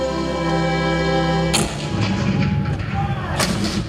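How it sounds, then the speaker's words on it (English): A sustained organ-like harmonic chord cuts off into a loud cannon blast at Fort Sumter in 1861, followed by rumbling booms and a second sharp report near the end, with the heavy firing dominating the scene. "The cannon spoke for war."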